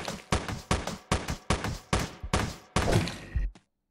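Rapid gunfire aimed at a zombie in the top-down shooter Teleglitch: about eight sharp, evenly spaced shots in quick succession, loud and close, with a heavier final blast before sudden silence.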